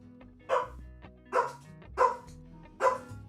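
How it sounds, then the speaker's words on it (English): A small pet dog barks four times at a steady, evenly spaced pace, fairly close and loud, with no talking over it. "I also want to see what Maisie is barking at"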